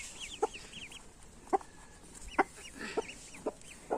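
Newly hatched ducklings peep in short, high, bright chirps, scattered and fairly faint, with a few clustered calls rising above a soft background hiss.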